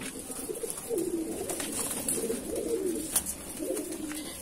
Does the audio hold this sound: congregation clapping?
no